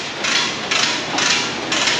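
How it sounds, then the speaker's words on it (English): A Zizz wheel on an air tool grinds rust off the brake mating surface of a rusted 2011 Kia Sorento, sounding as a loud hiss in short repeated bursts, about four passes against the metal. "loud noises coming in with our Ziz wheel"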